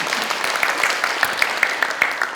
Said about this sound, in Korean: 박수를 한번 주시기 바랍니다.